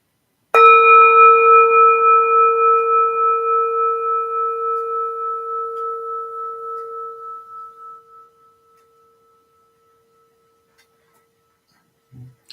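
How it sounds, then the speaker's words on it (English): A meditation bell struck once, loud and near, marking the end of a sitting; its clear ringing tone and bright overtones hang and slowly fade over about seven seconds into silence. "I'll invite the bell to signal the end of our sit."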